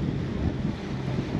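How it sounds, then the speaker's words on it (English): Strong wind buffets the microphone steadily aboard a sailboat approaching Port Elizabeth Bay in Bequia, a dense, constant low roar with no other sounds standing out. "So hopefully the mic is working in this wind."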